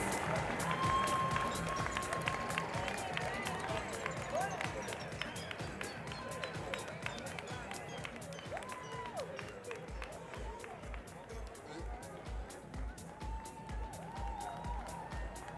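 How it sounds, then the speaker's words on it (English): A crowd applauds at a large international business training event in Miami, steady dense clapping with cheering mixed in, while a presenter keeps talking loudly over the noise throughout. "Let's give them a round of applause, Five Legs."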